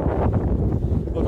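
Wind buffets a microphone outdoors on a wet walk in Wales, a loud, low, constant rumble filling the short stretch with no clear detail above it.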